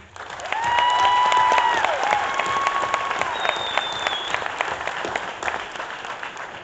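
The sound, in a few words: applause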